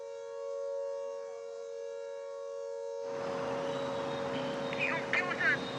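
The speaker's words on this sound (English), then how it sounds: "So air siren warning sounded in Chandigarh." An air raid warning siren sounds in Chandigarh during India–Pakistan tensions, holding a steady, droning tone that is joined midway by loud broadband noise and voices.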